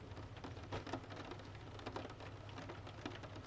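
Rain pours steadily over a quiet town, a continuous soft hiss with occasional sharper drop impacts, no voices.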